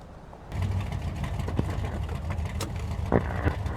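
A car engine in the video game Mafia 2 starts up and settles into a low, steady rumble as the car pulls away, with a few thumps and clicks over it and no talk.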